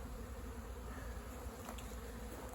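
Honeybees buzzing right up against a beekeeper's face shield in a backyard apiary, a steady, close, continuous drone filling the whole stretch with no talk over it.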